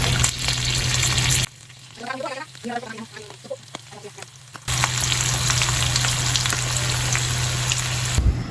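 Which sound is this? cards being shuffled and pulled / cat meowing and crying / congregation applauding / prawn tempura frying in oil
prawn tempura frying in oil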